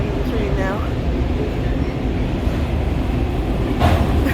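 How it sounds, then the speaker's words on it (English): A train rolls past near Harper's Ferry by the Potomac, a continuous close rumble of wheels and cars running steadily throughout, with a brief brighter hiss near the end. "the train is still going"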